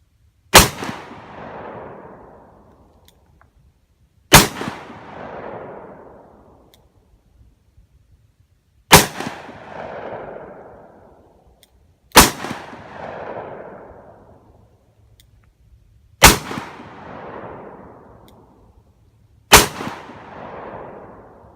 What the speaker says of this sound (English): But let's take 6 more shots. Do them in double action this time.